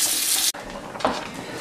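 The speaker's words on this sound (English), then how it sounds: "turn on the cold water, just run it over for a couple minutes" Cold water from a kitchen tap runs over cooked fettuccine noodles: a loud steady rush at first, a brief break, then quieter splashing as the stream hits the noodles.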